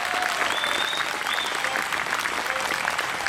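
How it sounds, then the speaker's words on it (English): An audience at an outdoor family music performance in a city park gives the sound engineer a round of applause, a dense, even wash of clapping with a few faint whistles running throughout. "I want you to give a real big round of applause for our sound engineer, Mr. John Ratcliffe"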